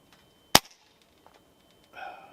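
A single sharp crack from an Air Arms S510XS Ultimate Sporter .25 air rifle firing JTS pellets outdoors at a 100-yard steel target, loud and isolated, followed by quiet and faint later noise.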